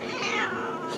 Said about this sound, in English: Kitty is going insane.